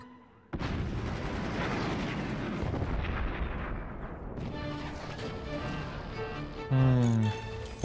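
Weapons fire in the strategy video game Forts: a sudden heavy blast starts a long, rumbling barrage of overlapping booms and crackles. A rising whistling tone sounds near the end.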